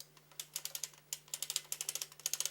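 A hand-cranked sock knitting machine clatters through one full round, a quick run of sharp ratcheting clicks in bursts with brief pauses, close and fairly quiet over a steady low hum.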